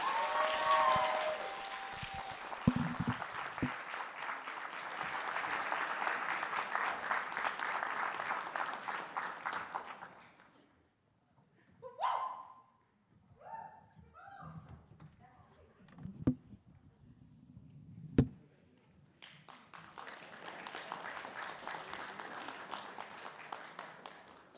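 An audience applauds an award recipient at a New England College student awards ceremony. Dense, steady clapping fills about ten seconds, then gives way to scattered knocks and thuds before a second burst of applause swells near the end.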